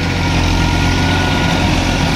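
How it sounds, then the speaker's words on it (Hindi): A 2003 Massey 5245 46 HP tractor with a left-side silencer drives a deluxe rotavator through a dry field, its engine a loud, steady, close drone with a throbbing low hum and no pauses. "पुराना मॉडल ट्रैक्टर है 2003 मॉडल मैसी बावन पैंतालीस पैंतालीस हॉर्स पावर वाला"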